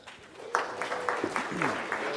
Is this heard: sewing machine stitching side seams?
no